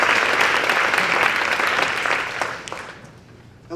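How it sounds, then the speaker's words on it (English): An audience claps for Donovan of Paper Hand Puppets, a dense burst of applause that holds steady, then thins and fades out near the end. "Clap it up for Donovan, guys."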